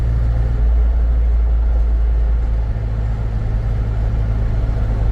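A 2007 Jeep Wrangler X on the road, its engine giving a steady low rumble with continuous road and cabin noise, close and fairly loud throughout, no talking.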